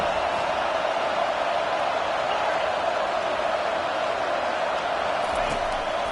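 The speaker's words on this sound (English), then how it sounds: "Listen to this crowd just shaking the girders of this place trying to help their defense." A stadium crowd roars loudly and steadily at a college football game, a dense, unbroken wall of cheering noise that holds for several seconds while the defense is on the field.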